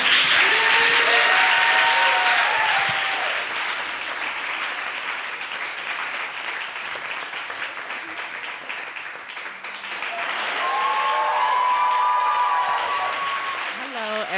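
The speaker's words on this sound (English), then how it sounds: "give a round of applause for today's lecture" Audience at a Yale University fall lecture applauding the guest, a loud sustained wash of clapping filling the hall, with voices and brief tonal sounds near the start and again toward the end.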